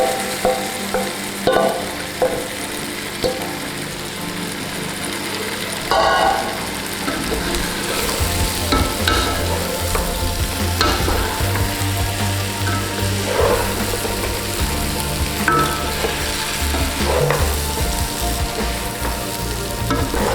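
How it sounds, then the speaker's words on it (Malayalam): Shallow-fried chicken being stirred into sizzling masala in a pan for Kerala-style chicken tikka masala, a steady frying hiss with scraping and clattering stir strokes throughout, close and fairly loud. "അടുത്തതായി നമ്മൾ ഷാലോ ഫ്രൈ ചെയ്ത് വെച്ച ചിക്കനാണ് മിക്സ് ചെയ്യാൻ പോകുന്നത്."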